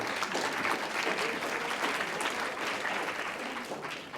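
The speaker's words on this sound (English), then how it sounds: "how about a round of applause for Phil Zuckerman?" Sustained, even applause from a conference audience in Los Angeles greeting speaker Phil Zuckerman, a dense wash of many hands clapping that holds steady and begins to taper near the end.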